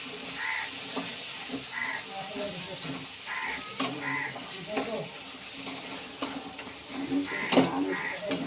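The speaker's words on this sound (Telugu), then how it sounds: "బాగా మిక్స్ చేసుకోవాలి" Gongura chicken curry is stirred in a pan in village style, with a continuous sizzle and repeated scraping, clinking stirs close by, while a voice talks intermittently over it.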